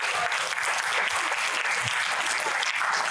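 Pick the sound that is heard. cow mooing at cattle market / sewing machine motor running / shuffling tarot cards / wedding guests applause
wedding guests applause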